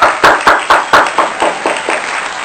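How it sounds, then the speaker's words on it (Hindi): An audience claps for a guest on a comedy talk show, a run of about ten loud, rhythmic bursts that gradually soften and fade, with no talk over them. "तो बहुत सारी तालियों में डॉक्टर सानिया खेड़ा साहिबा।"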